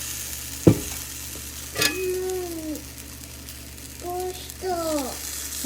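Batter poured into a hot pan sizzles steadily under the sound of a voice, with a sharp knock of utensil on pan early on and a quieter clatter soon after.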